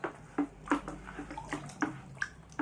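Homemade tire sealant ingredients stirred into water in a container, giving soft repeated sloshing and splashing strokes at a steady rhythm, close and fairly quiet.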